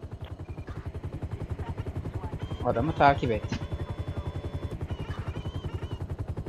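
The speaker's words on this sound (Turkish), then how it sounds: "Helikopterle takip et." A helicopter in the video game GTA 5 beats with a fast, even rotor chop throughout, steady and prominent, while someone speaks briefly in the middle over it.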